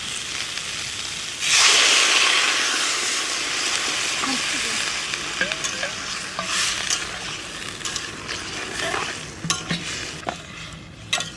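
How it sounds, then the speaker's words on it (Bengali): Water poured into a pot of sautéed vegetables including yellow and purple cauliflower, zucchini, purple cabbage, turnip and cherry tomatoes bursts into a loud, close hiss, then settles into steady sizzling with spoon clatter and stirring over a faint voice. "আমার সবজি কষানো হয়ে গেছে, এবার জল দিয়ে দিচ্ছি।"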